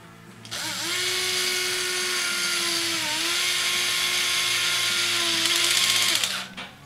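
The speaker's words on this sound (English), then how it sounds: "I've got my impact on the lowest setting possible, that way it doesn't strip out screws" An impact driver set to its lowest setting drives a 2.5 mm screw, spinning up with a steady, high whir for about six seconds and winding down at the end, close and alone without talk.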